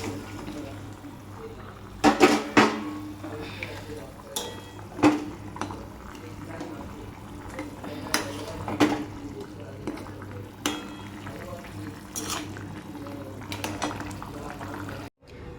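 Fish pieces are added to a spiced curry simmering in a pan, with a steady bubbling sizzle punctuated by occasional clinks and scrapes of a utensil.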